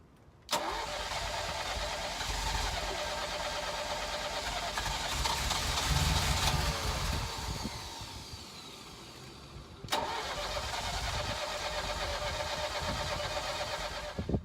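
A Ferrari 308 engine with newly repaired wiring cranks and catches, then runs at a loud, uneven idle. It cuts off, restarts abruptly and settles into a steady close-up idle again.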